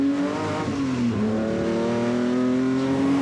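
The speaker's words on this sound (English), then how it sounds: "Out we go then, to qualify this E-Type Jag." A Jaguar E-Type race car accelerates hard out of the pits for qualifying at the Silverstone Festival. The engine note is loud, close and continuous, dips briefly at a gear change and then climbs again.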